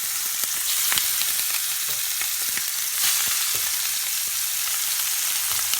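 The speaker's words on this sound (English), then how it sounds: "I'm going to make sure your oil is super hot so you get a nice sear." Short ribs sear in very hot oil in a loud, continuous sizzle and spatter with occasional sharper pops, close up and without voices.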